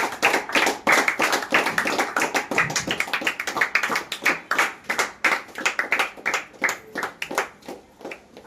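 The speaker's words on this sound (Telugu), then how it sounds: "క్లాప్స్ పెట్టండి" Audience clapping at a Children's Day human rights organisation event to welcome a new appointee: a cluster of hands beating in a quick, uneven rhythm that thins toward the end into sparser, distinct claps, close and fairly loud.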